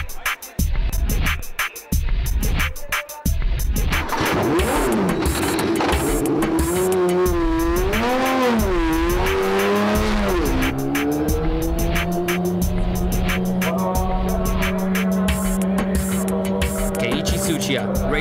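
ARTA Honda NSX race car on new soft compound tires on a time attack lap at Tsukuba circuit, its engine loud and continuous, revs rising and falling through gear changes with some tire squeal, and a voice talking over it.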